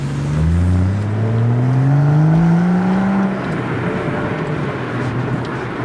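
BMW M135i engine revving hard while driving, a strong rising engine tone that climbs in pitch for about three seconds, then drops back to a steady, rumbling drone with road noise.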